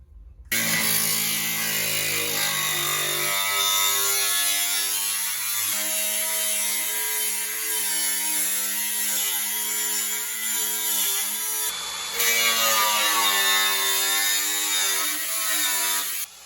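A power tool cuts through a metal tube for subframe connectors with a loud, continuous grinding whine that holds steady for several seconds, pauses briefly, then resumes.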